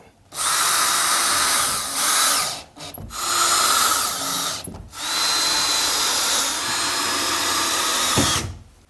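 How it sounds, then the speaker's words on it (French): A power drill drives screws into wood laths during a drywall repair, with several long, loud whirring bursts separated by brief pauses. "On visse, 3 vis chaque côté."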